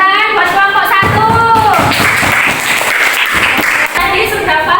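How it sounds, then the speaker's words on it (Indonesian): Pupils in an elementary Islamic school classroom clap for group 1 during a lesson, a dense burst of applause lasting several seconds, with teacher and children's voices mixed in. "Tepuk tangan buat kelompok 1."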